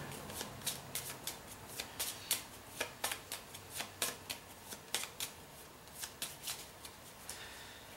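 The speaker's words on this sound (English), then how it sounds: "I'll shuffle my character deck." Pathfinder Adventure Card Game character deck being shuffled by hand, a steady run of crisp riffle bursts, close and moderately loud, with no talking.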